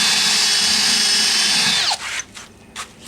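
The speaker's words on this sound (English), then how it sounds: "I drill a little pilot hole." A power drill bores a pilot hole into wood at the base of a wooden railing on stone steps, whining steadily and loud for about two seconds before it cuts off, followed by a few brief scraping bursts.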